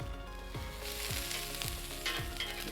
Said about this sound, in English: Place them down on our griddle.